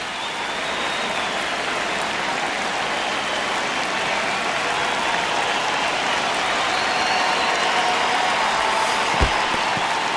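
Stadium crowd noise in the baseball video game MLB 26 during a tense ninth inning, a dense continuous roar of cheering and applause-like hiss holding steady and swelling slightly, loud and enveloping.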